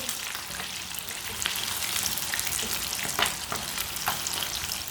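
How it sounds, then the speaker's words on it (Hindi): Fish fries in a pan, turning brown on each side, giving a continuous close sizzle marked by sharper pops and spatters, with no voices. "ये बहुत ही इजी तरीका है मच्छी फ्राई करने का"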